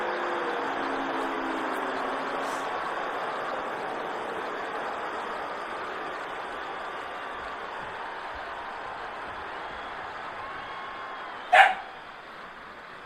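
Dogs barking during a wrestler's ring entrance in the video game WWE 2K24, one short sharp bark cutting through a steady arena crowd roar near the end.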